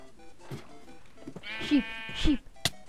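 Sheep in the Minecraft video game bleat several times in short wavering calls, close and fairly loud, with a few faint game noises between them.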